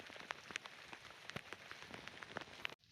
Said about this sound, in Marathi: पाऊस हा कंटिन्यू चालूच आहे।